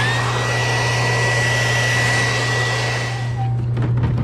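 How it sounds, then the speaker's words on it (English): A blow dryer roars steadily up close with a constant hum, drying airbrushed paint on a license plate, then dips slightly near the end as it shifts. "Trusty blow dryer."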